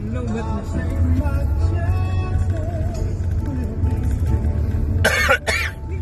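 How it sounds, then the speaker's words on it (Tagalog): A short cough pair near the end breaks through a low background hum and murmur of voices. "May kasama po siyang ubo."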